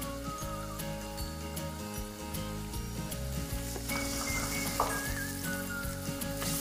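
Onions, scallions, ginger and garlic frying in a large batch of rapeseed oil blended with beef tallow, lard and chicken fat for a hotpot base, giving a steady loud sizzle with stirring and an occasional metal clink.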